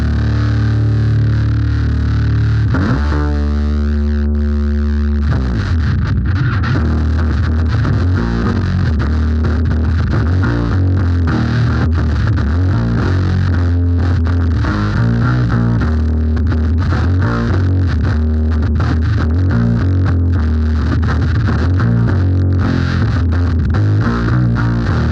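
Electric bass with a fuzz effect switched on, thick distorted notes and riffs played loud and close in a showroom for about twenty-five seconds with no talking.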